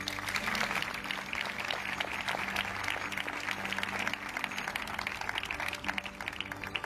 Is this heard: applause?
yes